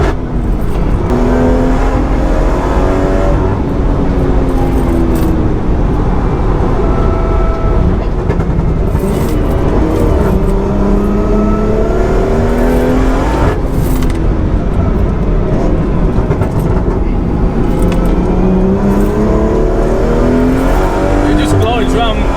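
A 510bhp BMW M240i with a Wavetrac diff accelerating hard on a race track, a loud continuous engine roar with rising and falling rev sweeps through gear changes, heard from inside the car with someone talking over it.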